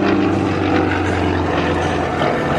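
A loud, continuous propeller engine drone from an aerobatic airplane doing snap rolls at the 2010 Abbotsford airshow roars steadily throughout, with a droning buzz and no pauses.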